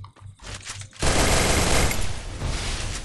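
Rapid gunfire erupts after a second of quieter shots, a loud sustained burst of automatic weapon fire in a game, dense and close.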